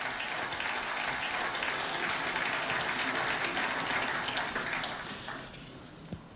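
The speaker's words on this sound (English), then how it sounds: "both applauded by the other player" Applause from the snooker arena crowd and the opposing player follows a well-hit shot by Anthony McGill, a steady dense patter of clapping that holds for several seconds and then tapers off.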